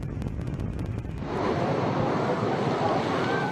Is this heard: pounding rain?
yes